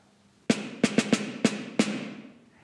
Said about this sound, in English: if I turn them on and make the snares touch